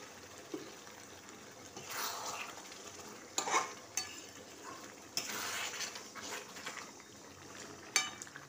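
Chicken leg curry frying in a pan as a little water is added, giving bursts of sizzling with spoon scrapes and clinks against the metal pan, fairly close and moderately loud, with no talking.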